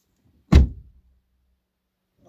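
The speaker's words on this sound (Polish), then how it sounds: "No, otwieram drzwi." A single solid thunk from the door of a VW Passat B7 car as it is opened, sharp and close, fading quickly into silence.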